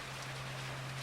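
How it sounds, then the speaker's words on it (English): Storm rain falls in a dense, steady hiss that lashes windows and roof, with a constant low hum beneath it and no break. "Rain lashed the windows and roof."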